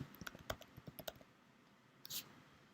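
Someone types on a computer keyboard at close range, a quick run of crisp key clicks ending in a brief pause and one heavier keystroke, faint and with no voices.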